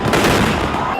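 Sample fireworks at Thrissur Pooram, fired by the Paramekkavu side, make a dense, continuous barrage of loud crackling bursts and booms that fills the whole moment without a break.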